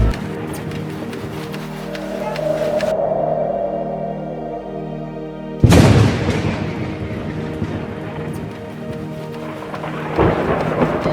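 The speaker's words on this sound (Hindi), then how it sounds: "लगता है तूफान आ रहा है।" Thunderstorm with heavy rain and thunder: a rolling rumble under steady rain, then a sudden loud crack of thunder halfway through followed by dense pouring rain and another rumble near the end.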